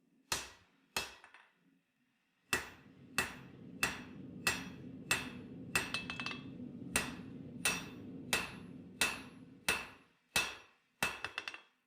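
A hammer strikes a forged dagger blade to bevel its edge, about fifteen loud, ringing metallic blows at a steady moderate pace after two opening hits and a brief pause.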